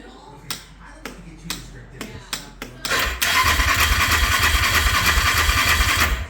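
Yamaha Grizzly ATV that cranks but will not start, with a run of sharp clicks followed by a loud, sustained mechanical whirring of the engine turning over for about three seconds, close up.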